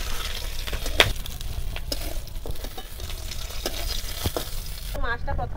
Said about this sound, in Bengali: মাছটা প্রথমে তেলের মধ্যে দিয়ে আগে ভেজে নেব।